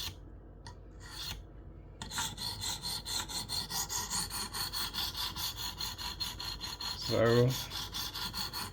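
A knife being sharpened on a KME guided sharpener, a steady rhythmic rasp of stone strokes across the blade, close and regular, with a brief spoken word near the end.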